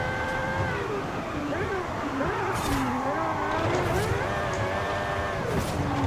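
A Hennessey truck engine in Forza Horizon 5 revs and shifts, its pitch sweeping up and down through gears as it accelerates, heard close and steady throughout.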